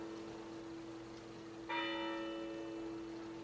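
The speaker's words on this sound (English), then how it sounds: "The bell there must be broken." A church bell strikes once, partway through, and its ringing tone hangs and slowly fades over a steady low hum, with no voices.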